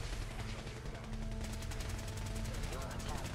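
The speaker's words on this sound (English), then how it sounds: "listen to this gunfire out there" Steady gunfire from the video game Fallout 4 rattles on continuously in the distance, a dense, rapid crackle of shots that sounds faint and far off.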